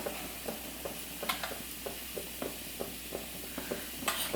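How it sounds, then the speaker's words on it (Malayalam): Spatula stirring garam masala, turmeric and chili powder frying in a pan, with soft rhythmic scrapes every half second or so over a faint, steady sizzle. "ഒന്ന് ഇളക്കി കൊടുക്കാം."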